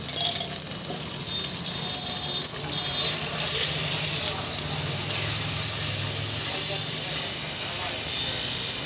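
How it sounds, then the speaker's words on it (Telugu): Water being poured into a clay cooking pot of tomato paste and onion paste for tomato rice, making a steady hissing, splashing spray that runs throughout under a voice. "వాటర్ యాడ్ చేసామండి"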